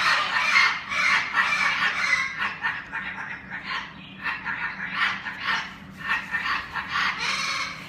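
Coco, a pet bird, gives a run of repeated harsh, squawky calls in uneven bursts, loud and close, with brief gaps between phrases and no talking.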